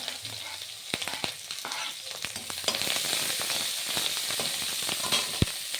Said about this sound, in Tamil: கடலப்பருப்பு கடுகு நல்லா பொரியணும் கடுகுலேயே டேஸ்ட் இருக்கும்